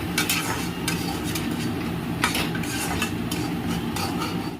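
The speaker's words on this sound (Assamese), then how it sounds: "ধনিয়া আৰু জিৰা গুড়ি অকণমান দি লৈ পেলাই এইখিনি আকৌ অকণমান ফ্ৰাই কৰিম।" Coriander and cumin powder frying in a pan, with a steady sizzle broken by repeated scraping stirs of a utensil against the metal, close up and without talk.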